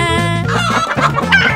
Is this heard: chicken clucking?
yes